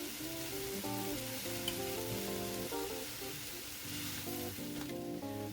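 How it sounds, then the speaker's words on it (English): Frozen peas and sweet potato sizzle and fry steadily in a hot pan for a sweet potato pad thai, a continuous close crackling hiss with faint stirring and a tonal hum underneath. "We're just going to add our frozen peas to this."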